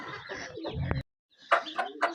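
Chickens and chicks cluck and squawk up close in short bursts, with a brief silent gap before a few more calls.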